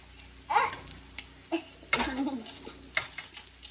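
An egg frying in a pan on a home stove, soft sizzling under a few scraping stirs and light clinks of utensil on pan, close and quiet.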